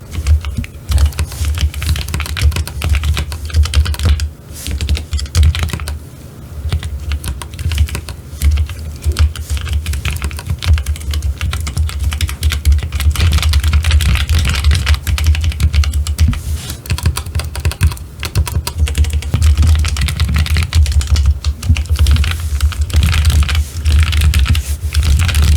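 Someone types briskly on a 3D-printed Phomos mechanical keyboard with unmodified switches, producing a dense, continuous clatter of close, loud keystrokes with barely any pause.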